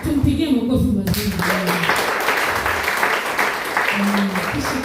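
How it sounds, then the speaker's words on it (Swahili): A church congregation claps and cheers in warm applause during a morning teaching session, a dense steady roar of many hands filling the room with a few voices calling out over it. "Tumpigie makofi mazuri."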